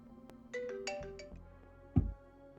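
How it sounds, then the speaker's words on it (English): A personal cell phone ringtone plays in a tabletop role-playing session: a melodic electronic ring with clear tonal notes, followed by a sharper louder burst near the end, close and fairly quiet overall. "Your personal phone rings."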